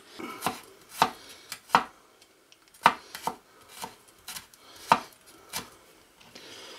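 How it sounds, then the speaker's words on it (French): A knife chopping garlic as finely as possible on a board, for a pâté de tête: irregular sharp chops in close succession, loud and near, with no talking. "là je vais hacher, le couper le plus finement possible"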